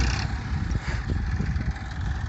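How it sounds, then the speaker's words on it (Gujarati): A Massey tractor engine runs close by with a steady low rumbling drone, pulling only a light load, alone without voices. "A રવિભાઈનું tractor."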